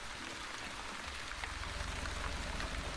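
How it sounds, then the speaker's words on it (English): Steady rain from the video game The Wandering Village hisses evenly throughout, a continuous soft wash of falling drops with no voices. "It is raining right now."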